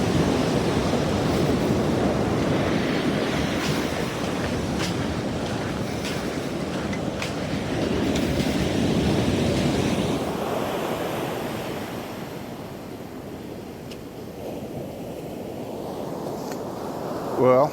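Ocean surf rolls onto a beach at high tide reaching the dunes, a steady roar of breaking waves with wind buffeting the microphone, easing somewhat toward the end.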